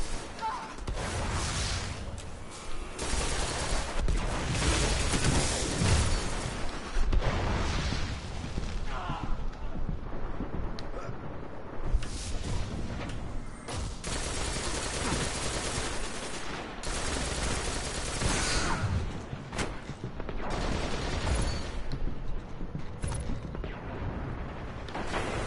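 Gunfire from a Destiny PvP match, including shotgun blasts, rattles almost continuously for over twenty seconds, dense and loud with bursts, booms and mechanical clatter layered throughout.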